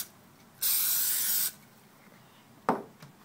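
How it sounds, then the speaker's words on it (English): A single sustained hiss of cooking spray onto a plaster imprint lasts about a second, followed by a couple of faint soft knocks. "Take the PAM and spray the imprint."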